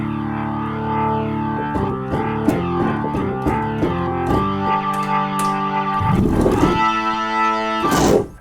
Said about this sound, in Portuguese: Tá aqui o efeito do jeito que ele é, que nesse caso eu estou usando uma distorção dedicada pro órgão.